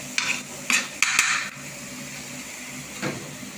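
Eggs stirred and cooking in a pan for a Chinese-style dish with rice, giving a few short bursts of scraping and sizzling against a steady low background, with a lone softer scrape near the end.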